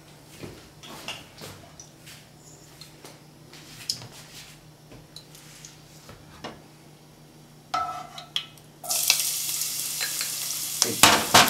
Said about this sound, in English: This is our onions and shallot and garlic. We're gonna saute these for about 1 minute.